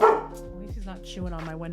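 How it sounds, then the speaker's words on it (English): A frightened indoor dog barks a few times after a car door slam on a cloudy day, the barks sounding close and loud, while a person talks over and between them. "I'm sorry for the barking."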